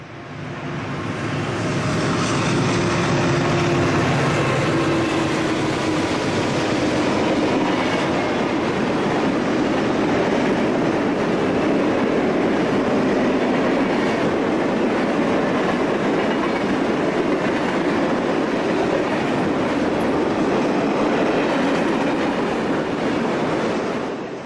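A Conrail extra westbound manifest freight train rolls past close by, a loud, continuous rumble with rhythmic clickety-clack of wheels over rail joints sustained for the whole stretch.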